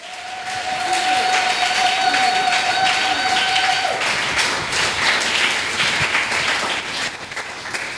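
A church congregation breaks into sustained, fairly close applause lasting several seconds, with a held sustained tone fading out partway through and a few voices mixed into the clapping.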